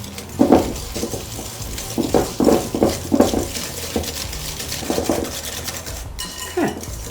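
A whisk mixing cornstarch and flour in a bowl, giving a series of rhythmic scraping, tapping strokes in short bursts, with light clinks of utensil on bowl.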